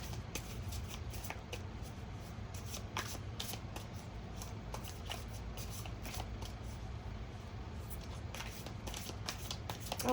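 Playing cards being shuffled close by in a quiet room, a steady run of soft riffling and flicking that carries on for several seconds, with small crisp snaps at intervals.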